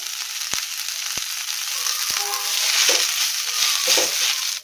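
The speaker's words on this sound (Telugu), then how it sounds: "కొత్తిమీర ఇలా వేగుతూ ఉండగా మధ్య మధ్యలో కలుపుకుంటూ వేయించుకోవాలండి" Chopped coriander frying in oil in a pan for a coriander pickle: a steady, bright sizzle with a few sharp taps and scraping stirs of a spoon, close and alone without speech.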